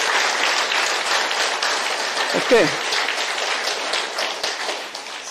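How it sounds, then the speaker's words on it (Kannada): A lecture audience on breathing science claps together at the speaker's request, a broad, steady patter of many hands that runs the whole time, with a brief spoken word partway through. "ಒಂದ್ಸಲೆಲ್ಲ ಜೋರಾಗಿ ಚಪ್ಪಾಳೆ ಹೊಡೀರಿ"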